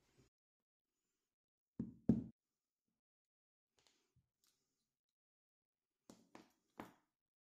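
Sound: light tap on brass inlet tube to mark hole

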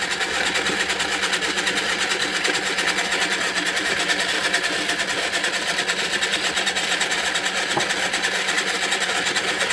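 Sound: electric paint-pour spinner motor running at high speed

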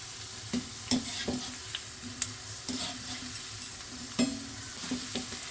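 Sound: deep-frying kundru (ivy gourd) chips in oil

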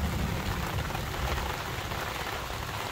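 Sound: rain falling

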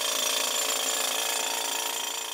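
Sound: drilling holes into rock in an Afghan gem mine

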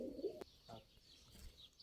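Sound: tumbler pigeons cooing

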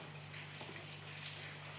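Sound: water being poured into a pan

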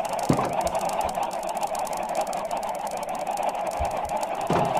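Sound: chickens clucking in Minecraft video game

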